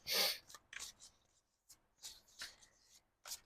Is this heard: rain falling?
no